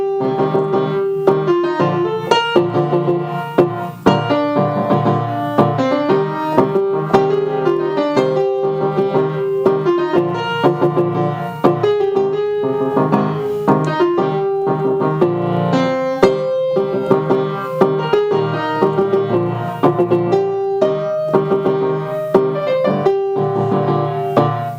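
Solo piano plays a section of the Pirates of the Caribbean theme, a steady driving rhythm of repeated notes and chords held at an even, close, moderately loud level for about twenty-five seconds, with no talking.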